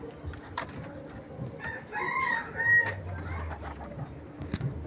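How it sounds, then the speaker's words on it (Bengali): Calls from a flock of European White Giant Coturnix quail, a large quail breed, kept for sale as laying birds and hatching eggs: short repeated bird chirps and clucks at moderate distance over steady low background noise. "এই হচ্ছে ওই ইউরোপিয়ান হওয়ার জায়েন্ট কটনিক্স"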